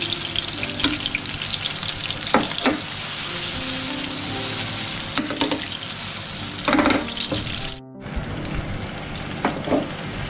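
Raw minced-meat chapli kabab, Old Dhaka style, fries in a pan with a loud, continuous sizzle. Occasional scraping stirs of a utensil sound close by, and the noise briefly drops out near the end.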